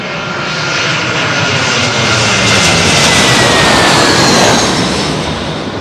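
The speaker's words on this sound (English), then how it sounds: "Little ATR there, isn't it?" An ATR turboprop aircraft flies low overhead at London Heathrow, a loud sustained engine roar with propeller whine that builds to a peak and begins to ease as it passes close by.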